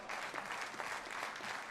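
A stadium crowd at the Australian Athletics Championships claps steadily for a long jumper, a dense, even patter of applause heard from a distance throughout.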